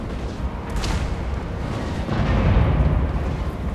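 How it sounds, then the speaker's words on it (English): Cannons fire in a Total War: Warhammer battle, a dull booming rumble that swells under steady low battle noise, with one sharper crack early on. "we'll fire the cannons. I guess we have enough. Like, just fire them all."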